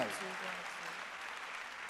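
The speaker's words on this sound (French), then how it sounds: "À l'Éternel, un applaudissement pour ça." A church congregation applauding during a night worship service, a brief dense patter of clapping lasting under two seconds, with a voice audible at the very start.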